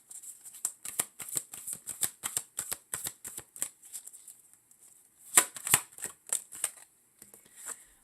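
Tarot cards are shuffled by hand in a quiet room, a long run of crisp rapid riffling flicks, faint and close, with a few louder snaps near the end.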